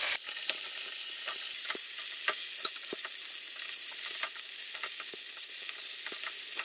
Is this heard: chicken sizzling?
yes